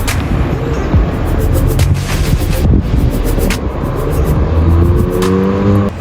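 A lowered 2015 VW Polo 1.2 TSI drives along with loud, continuous road and engine noise, rough rumbling with some rattly bursts and a rising engine tone near the end; no speech.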